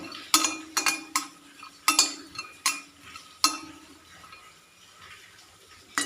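Cashew nuts roast in a pan for Kerala Karkkidaka unda (ariyunda) and get stirred with a metal utensil, giving a run of sharp clinks and scrapes against the pan, busy at first and then sparser, with no talking.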